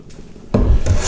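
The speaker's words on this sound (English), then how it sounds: "I can peel off whatever shaving I want with this" A hand plane takes a shaving off tulip poplar wood, a short, close scraping swipe after a quiet moment, with a second brief rasp at the end.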